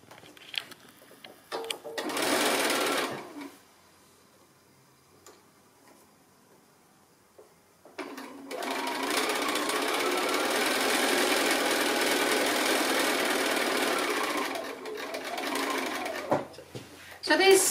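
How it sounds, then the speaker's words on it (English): A sewing machine stitches a quilt block in two runs, a short burst of rapid ticking and then a longer steady stretch, close and moderately quiet, separated by a pause. "So I'll go ahead and get that one stitched so that you can see that as well."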